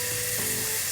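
Shrimp frying in a pot of hot oil, a loud, dense, continuous sizzle and crackle that fills the whole moment with no talking.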